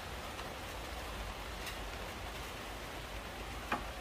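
Light rain falls steadily in a quiet outdoor setting near a wet market, a faint, even patter with occasional louder drips.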